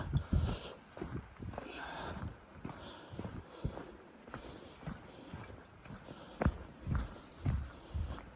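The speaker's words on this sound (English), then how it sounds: "Thank you, horses." Horses walk along a forest trail in the Gifford Pinchot National Forest, their hooves giving uneven, close clip-clop steps with scattered thuds and rustles over a quiet outdoor background.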